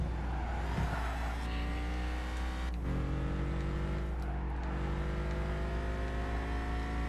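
A car engine drones steadily in Gran Turismo 5 during a Japanese 90's challenge race, holding a strong tone, dipping briefly and shifting pitch as gears change, alone without talk.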